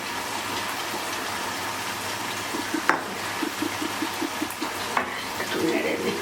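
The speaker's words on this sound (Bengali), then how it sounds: "একটু নেড়ে দিই।" Mango chicken curry with spice-rinsed water being stirred in a pan, a soft wet scraping and bubbling with a few light clinks of the spoon against the pan, steady and close with no talk.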